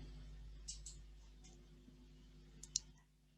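A computer mouse clicks on a Send button, a few faint, crisp clicks spaced out over a low steady hum.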